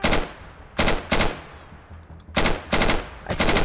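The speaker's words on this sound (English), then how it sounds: "I think I just shot through you and saved your life." Gunfire in Insurgency: sharp, loud automatic bursts, two quick bursts, a pause, then three more in close succession.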